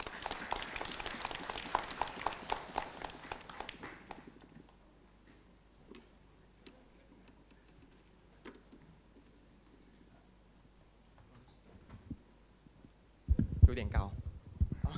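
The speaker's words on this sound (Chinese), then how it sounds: "掌声有请。" Audience applause at a Chinese-language university debate championship, a dense burst of clapping for about four seconds that fades into a quiet hall, with a brief loud sound near the end.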